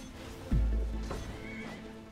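A horse unit in the mobile game Auto Chess gives a loud, close whinny, a rising and falling neigh lasting over a second, over steady game background sound.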